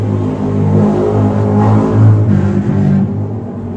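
Motorcycles revving outside, a loud, steady engine drone with rising and falling throttle that holds for the whole stretch, with no voices over it.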